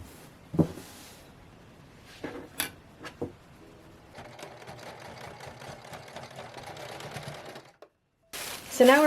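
A serger runs along fabric edges while sewing a vintage-inspired dressing gown, a steady mechanical whirr lasting several seconds after scattered handling clicks, then stopping abruptly.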